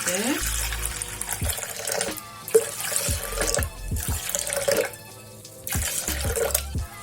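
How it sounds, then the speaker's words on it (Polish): About 350 g of water is poured into a Thermomix mixing bowl holding a marinade, a close, splashing stream that runs, pauses and resumes, with some faint voice in the background. "do naczynia miksującego, do naszej marynaty dolewam 350 g wody"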